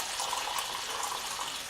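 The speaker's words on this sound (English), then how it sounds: "We just add a bit of water to that" Water poured into a pan of baked beans, a soft steady trickle and splash heard close up, fairly quiet and with no voices.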